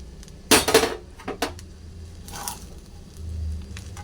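Leftover rice being stirred together with fried peanuts in a pan, a few quick metallic scrapes and clinks of a utensil against the pan, then softer shuffling, close and fairly quiet.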